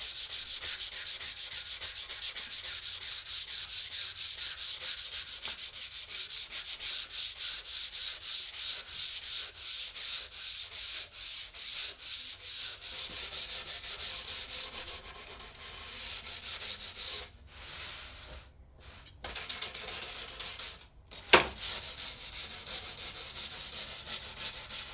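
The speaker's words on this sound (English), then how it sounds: "sand through the grits, don't skip any, don't rush through it" Wooden chair parts get sanded with a power sander, a continuous close abrasive rasp with rhythmic back-and-forth surges that briefly drops and pauses in the later seconds before resuming.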